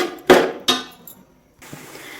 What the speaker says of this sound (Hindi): तो मैंने अब मटर डाल लिए हैं, तो बस इनको हम हल्का सा जो है भून लेते हैं।